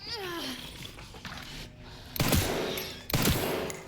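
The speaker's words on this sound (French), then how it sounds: "Mais chef, je te tire dessus." Gunshots ring out in the video game Resident Evil Requiem: two sharp, loud blasts in the second half, with excited talking throughout.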